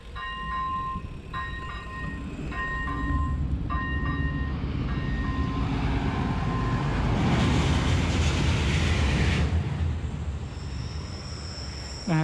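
A railway level crossing signal beeps in repeated evenly spaced tones before a train passes with a steady, loud rumble and rising wheel noise, heard outdoors at close range.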